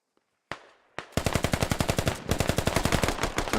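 Rapid bursts of automatic gunfire in a video game match, two separated shots followed by a long, loud, steady stream of rounds with a brief pause midway, close and dominant with no talk over it.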